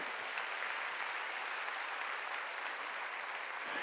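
Steady applause from a church congregation at a Wednesday worship service, a dense even clatter of many hands that stays constant throughout, fairly close and with no voices over it.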